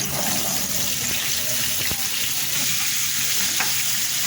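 Steady, close sizzling of zucchini searing in a hot pan, a constant bright hiss with occasional small pops.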